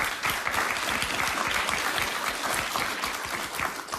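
A live studio audience in Los Angeles claps throughout, dense steady applause held at an even level for the whole stretch, with no talking over it.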